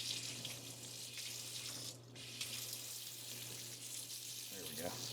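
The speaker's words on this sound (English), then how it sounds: "While I'm here at the kitchen sink, I'm going to go ahead and set this to hot" Hot water runs steadily from a kitchen sink tap during a home inspection, a continuous broadband hiss with a brief dip midway, while a low electrical hum sits underneath and a voice speaks faintly near the end.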